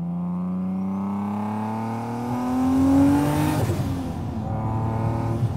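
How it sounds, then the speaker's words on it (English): A single-turbo 1991 Acura NSX is driven out in the desert near Las Vegas, its engine note climbing steadily as it accelerates and then briefly dipping before pulling again, heard close from the car. "I'm driving an NSX out here in the desert"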